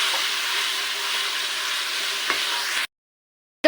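Spices for a rajma lobia curry are stir-fried and mixed in a pan, giving an even sizzling hiss with a brief scrape, then a sudden cutoff into silence near the end.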